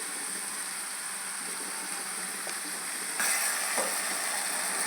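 Tomatoes sauté in a pan with rock salt and turmeric powder, a moderate, steady sizzle with faint scraping, and a brief louder burst near the end.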